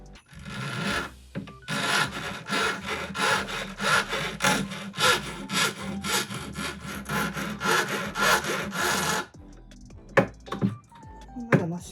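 A metal file rasps down the corner of a modified wax-modeling spatula, with steady, loud back-and-forth strokes repeating for about nine seconds, then a few isolated scrapes and taps close by.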